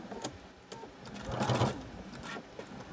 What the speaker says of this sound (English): So as you stitch, you're just going to curve this around.